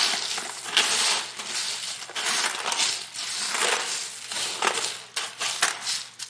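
Pretzels, mixed nuts, Cheez-Its and Chex cereal being stirred together in a bowl, a close, continuous crunchy rattle and clatter in repeated waves, with no talking.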